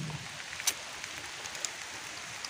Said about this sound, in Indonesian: Udah hujan lagi.